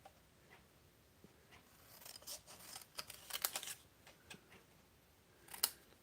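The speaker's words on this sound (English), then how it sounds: "snip a little scrap to put in there" Scissors snip a small scrap of paper at a craft table, giving a few faint, quick cuts clustered together with a slightly louder final snip in a quiet room.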